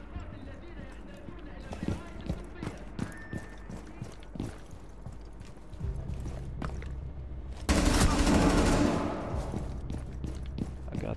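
Gunfire in the tactical shooter Rainbow Six Siege crackles as scattered sharp shots and short bursts, some close and some farther off, under quiet game ambience, with a louder rushing burst late on.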